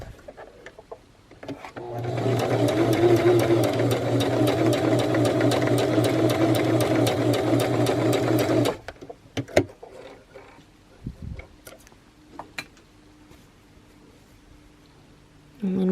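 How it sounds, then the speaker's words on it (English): A sewing machine stitches the arm of a buffalo plaid fabric gnome in one continuous rapid, rhythmic run of about seven seconds, then stops, leaving quiet handling sounds and faint clicks. "I think I'll go ahead and sew it under this time."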